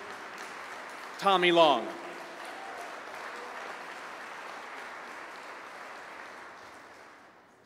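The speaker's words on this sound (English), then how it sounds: "how about a great round of applause again for our city manager of 10 years, Joshua Smith" Audience applause for a city manager at a state of the city address, a continuous wash of clapping that slowly fades, with a brief spoken name over it near the start.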